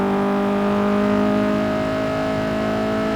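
A front-wheel-drive car in a racing game revs hard through its gears with VTEC kicking in, a loud steady engine whine with rising tonal harmonics throughout.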